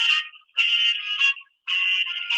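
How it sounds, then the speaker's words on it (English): A cell phone rings with a music ringtone, a bright electronic melody in bursts separated by short gaps, clear and close. "I wear these headphones just for you guys to hear the phone ringing."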